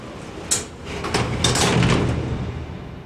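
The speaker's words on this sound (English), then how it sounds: "It's time to close the payload bay doors." Payload bay doors on the space shuttle Discovery closing, a sequence of mechanical knocks and thuds over a steady low hum, with a sharp bump early and a louder rolling stretch in the middle before it settles.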